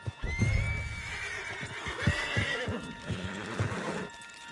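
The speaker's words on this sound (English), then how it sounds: "Back of John's horse, and let's get out of here." A horse in a PS4 video game gives a loud rising whinny, followed by snorts and a scattering of hoof clops close by.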